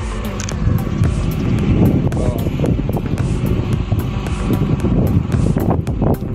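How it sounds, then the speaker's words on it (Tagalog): Heavy wind roars and gusts against the microphone throughout, loud and rough, with occasional clicks and knocks under the constant blustering, outdoors in Pansol, Laguna, Philippines. "Lakas ng hangin, baka ilipad."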